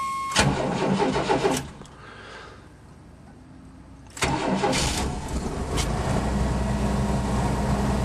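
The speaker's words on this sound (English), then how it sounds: "Pretty much hit the key twice and you're good to go" A 1989 Chevy Blazer S10 with a 4.3 liter throttle body V6 cranks and fires loudly, then a brief lull before a second start catches and settles into a steady, close rumbling idle.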